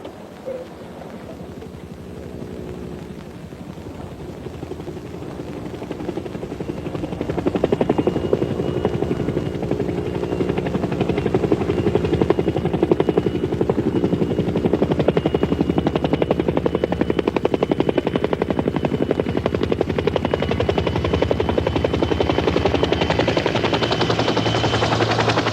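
A helicopter carries a teacher, a monastery abbot, over a remote region; the rotor's dull throbbing chop starts faint, swells loud after several seconds and holds steady for the rest of the long stretch, with no voices.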